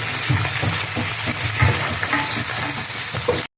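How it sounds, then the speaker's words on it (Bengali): Nigella seeds hitting hot oil left in a kadai after frying folui fish, a loud, close, crackling sizzle with stirring, continuous until an abrupt cut near the end. "কালো জিরা আমি তেলের মধ্যে দিয়ে দিচ্ছি।"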